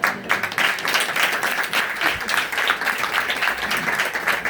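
Church congregation applauding after a sermon, dense sustained clapping from a large crowd that fills the whole stretch, fairly loud and close.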